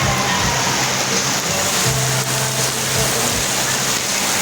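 A downpour in Raon roars without pause, a thick, even wash of heavy rainfall that stays loud and close from start to finish.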